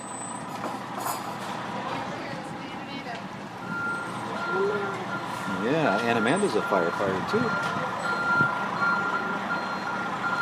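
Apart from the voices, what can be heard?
fire engine reversing beeps backing into firehouse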